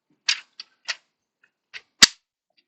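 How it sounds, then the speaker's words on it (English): A Transformers Earthspark Spin Changer Optimus Prime figure's internal catch releasing on its gear or spring as the legs are raised, giving a few sharp, close plastic clicks in quiet, the last one louder and snappier. "That was the sound of the catch being released on the gear or the spring."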